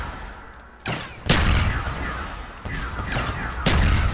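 Dual pistols firing in a video game: a series of sharp, loud shots in uneven bursts, each one followed by a broad rumbling tail.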